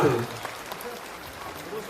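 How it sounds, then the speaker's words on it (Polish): A short burst of applause rises from the crowd at a prize draw where a woman has won a Syrena 105 car. A voice is heard briefly at the start, and the clapping then trails off softly. "Szczere oklaski, dobra?"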